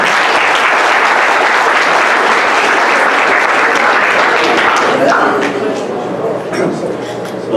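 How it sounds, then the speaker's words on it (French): Long, loud applause from an audience at a hospital foundation evening event, sustained dense clapping that eases off in the last seconds as a voice begins speaking. "s'il vous plaît, de bonnes applaudissements pour Luigi"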